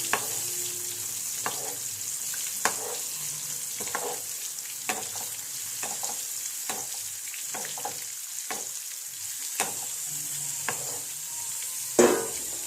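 Chillies and fish frying in hot oil as oil is scooped over them, a steady crackling sizzle broken by repeated sharp clinks of a ladle or spoon against the pan, with one louder knock near the end.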